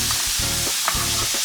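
Minced celery and carrots frying in a pot as the base for a duck soup, a steady close sizzle with stirring scrapes breaking through.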